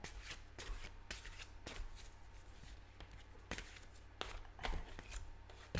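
Tarot cards shuffled by hand, a soft continuous riffle and rustle punctuated by crisp card snaps, close and quiet, with no speech.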